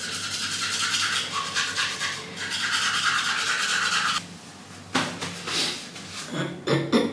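A toothbrush scrubs teeth in fast back-and-forth bursts, close and bristly, with a short pause and then a few quicker strokes and rinsing rattles at the end.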